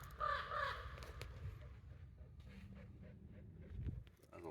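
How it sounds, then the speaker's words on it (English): A loud crow caws twice in quick succession, close by, over steady outdoor wind noise and low rumble. "That's a loud crow."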